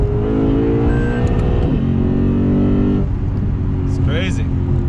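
A Lexus RC F with its trunk emptied of about 150 pounds accelerates hard, engine droning loud and near as the pitch climbs and drops between gear changes, with a voice talking over it.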